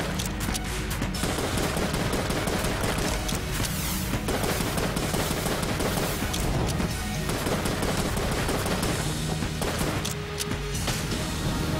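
Dense, continuous video-game gunfire in Enter the Gungeon during a boss fight, with bullets reflected back at the boss; rapid overlapping shots and crashing impacts form a loud, unbroken barrage throughout with no talk.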